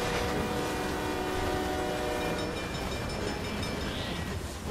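A bullet train rushes past in the video game Beyond Two Souls, a steady loud roar with rail rumble and a faint horn-like tone, continuous for the whole stretch.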